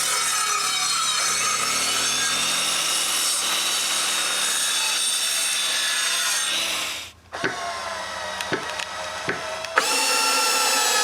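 A saw cuts through wood pieces for a firewood shed at a chalet in a long steady stroke, then stops briefly before a few shorter rasping passes, close and loud with no talking.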